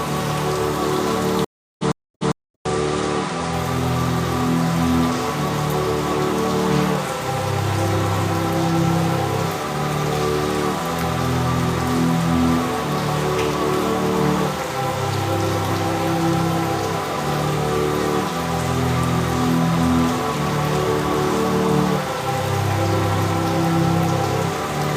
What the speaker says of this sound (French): Il est en train de pleuvoir ici.